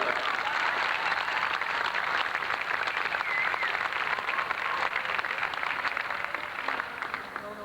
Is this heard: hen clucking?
no